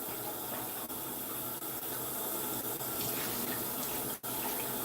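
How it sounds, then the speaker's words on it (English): Water runs steadily from a household tap into a sink, a continuous close hiss and splash that holds even throughout with only slight dips. "I'm just going to let the water run for a minute."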